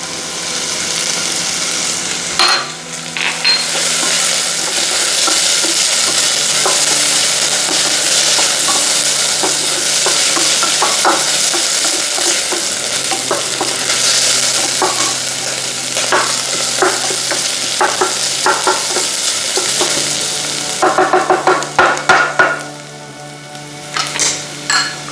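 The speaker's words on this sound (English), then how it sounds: "We will add the garlic now." Garlic sizzles steadily in a pot of frying vegan bolognese base while a utensil stirs and scrapes, the frying loud and continuous with a burst of clattering stirring near the end.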